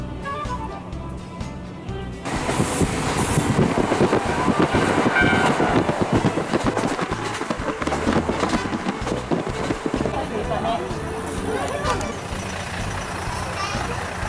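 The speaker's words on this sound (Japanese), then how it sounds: "次に乗車する列車はキハ54型。" A KiHa 54 diesel railcar on a Japanese rapid service rumbles loudly along the tracks with steady engine drone and rhythmic clattering, a voice speaking briefly over the noise.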